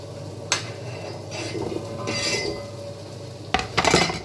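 Borscht ingredients drop into a pot with a few metallic clinks and clatters, spaced apart, ending in a louder rattle. No one speaks.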